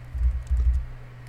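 A few soft keystrokes on a computer keyboard while a Kubernetes master node is set up on AWS, brief and close over a steady low hum, with no talking.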